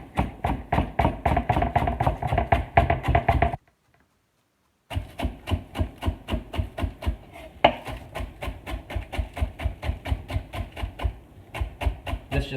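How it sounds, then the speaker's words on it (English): A knife chopping green onion on a cutting board, fast, even, close taps in a steady rhythm, pausing briefly and then resuming. "Green onion."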